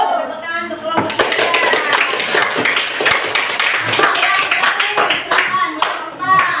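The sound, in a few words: audience applause for a presenting student group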